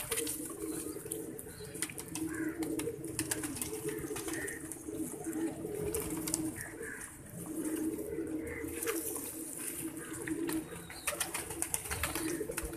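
High-flying pigeons coo softly and repeatedly in a loft, a steady murmur of several birds with occasional wing flutters.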